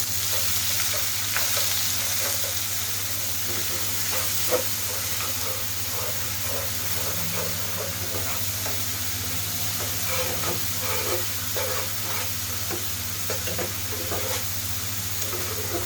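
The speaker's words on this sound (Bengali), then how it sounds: "এখন আমি সুন্দর করে সব মশলাগুলো একসঙ্গে মিশিয়ে নেব।" Spices with dry red chilli being stirred and fried together in a pan for a red country chicken curry, a continuous loud sizzle with repeated scraping strokes of the spoon throughout.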